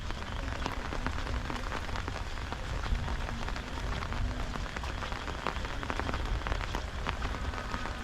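Heavy rain pours steadily over green village paddy fields, a dense, unbroken hiss of drops close by with no voices.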